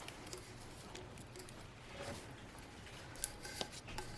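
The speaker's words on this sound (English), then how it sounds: "So I am going to trim a little bit more" Scissors trim sublimation paper for a 20oz skinny tumbler with a few faint, light snips and a soft paper rustle, close but quiet over a low steady room hiss.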